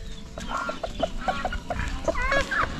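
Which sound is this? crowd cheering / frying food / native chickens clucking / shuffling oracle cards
native chickens clucking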